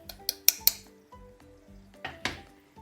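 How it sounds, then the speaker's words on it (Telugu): Spice powders being mixed in a bowl for cauliflower pickle, giving a run of sharp metal-on-bowl clinks and scrapes, several loud knocks early then softer scraping strokes, close and with no talk. "వేసి బాగా మిక్స్ చేసేసేయాలి"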